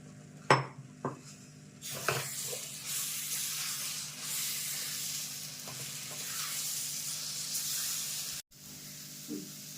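Green pea paste being stirred in a wok over heat, with a soft steady sizzle, a few sharp utensil knocks near the start and occasional scraping strokes; no talking.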